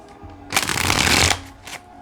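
Tarot cards being shuffled in one brisk riffle lasting under a second, close and crisp against a quiet room with faint background noise.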